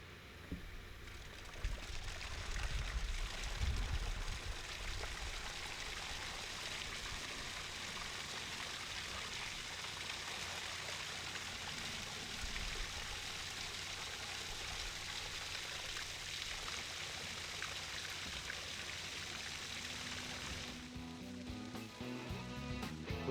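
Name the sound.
landscape waterfall starting to flow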